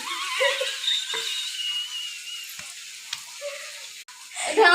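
Onion, ginger and garlic fry in a pan with a soft, steady sizzle, faint and close, while a few brief voices and small kitchen knocks sound in the background.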